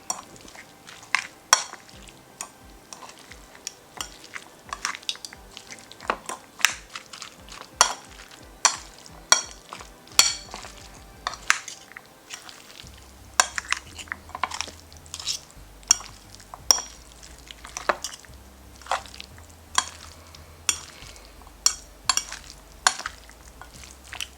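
Habanero chicken salad being stirred and mixed in a bowl, with a steady run of sharp scraping clinks from a utensil against the dish, repeated rhythmically and close by, with no talking.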